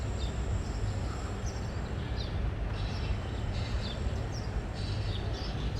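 Small birds packed into a feeding cage in palace grounds in Thailand, giving faint scattered chirps and tweets over a steady outdoor background rumble.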